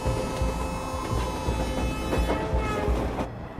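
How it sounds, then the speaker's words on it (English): Wheels of a troop train roll over the rails in a steady rhythmic clatter with faint metallic squeals, close and continuous with no voices. "Occasionally, the sound of wheels gripping the rails echoed"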